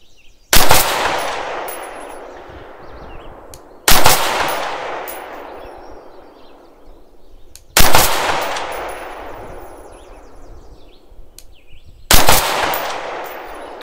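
Four loud rifle shots firing 55 grain rounds at a range target, each a sharp crack followed by a long decaying echo, spaced about four seconds apart with no talking.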